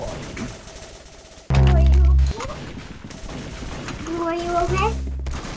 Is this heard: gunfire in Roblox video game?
yes